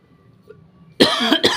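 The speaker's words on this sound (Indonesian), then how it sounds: "Ini agak batuk ini." A person coughs twice in quick succession, sharp and close after a quiet moment, the second cough shorter than the first.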